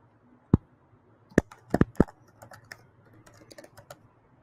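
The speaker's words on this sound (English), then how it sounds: "You can type in the name of your list here." Keys tapped on a computer keyboard while a list name is entered, a few loud isolated clicks followed by a run of lighter, uneven keystrokes, close up with no talking.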